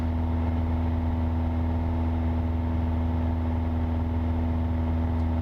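A Piper Cherokee 140 aircraft engine runs at maximum RPM during a run-up, a loud, constant, close droning hum with a steady pitch throughout.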